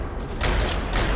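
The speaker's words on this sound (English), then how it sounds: "Rattling with gunfire." Gunfire in the video game Max Payne 3, a brief burst of harsh, loud rattling shots that kicks in partway through after a quieter noisy start.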